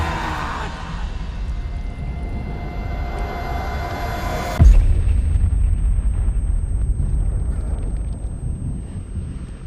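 In the video game Dust: An Elysian Tail, a deep explosion booms out of a rushing, windy backdrop midway through, then leaves a low rumbling roar that slowly settles.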